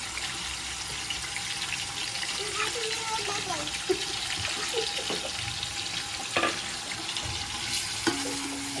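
Garlic, onion and oil fry in a cooking pot with a continuous, dense hiss that runs throughout, with occasional clinks and scraping from utensils.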